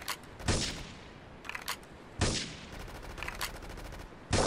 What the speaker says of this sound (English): Investigate report the gunfire and explosion.